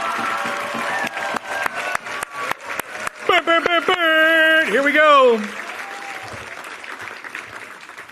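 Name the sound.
audience applause at award ceremony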